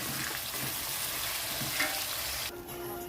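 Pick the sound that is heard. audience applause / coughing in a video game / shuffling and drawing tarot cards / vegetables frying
vegetables frying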